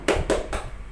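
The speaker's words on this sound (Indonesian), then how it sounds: "Oke, tepuk semangat." A classroom of young pupils does a rhythmic spirit clap, three sharp bursts of group clapping landing in a quick beat, close and loud in the room.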